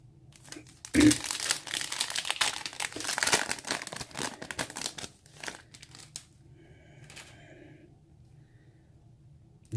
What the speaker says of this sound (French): Et on va s'ouvrir le deuxième booster.